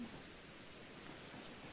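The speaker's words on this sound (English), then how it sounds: "And it's raining cats and dogs, of course it is." Steady rain falls in the video game Pokémon Legends: Arceus, a constant soft hiss of dense drops that stays even throughout with no voices.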